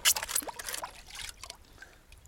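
Water washes and trickles through a gold pan in short, faint splashy pulses that fade toward quiet.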